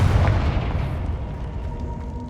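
A Confringo fire spell explodes in Hogwarts Legacy, a loud booming blast that rumbles and fades away over a couple of seconds, heard alone.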